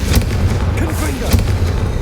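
A Confringo fire spell explodes in Hogwarts Legacy, giving loud booming blasts over a rumbling low drone, with a few sharp cracks across two seconds.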